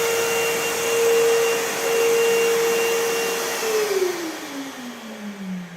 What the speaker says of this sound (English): When I hit power, the vacuum cleaner kicks in.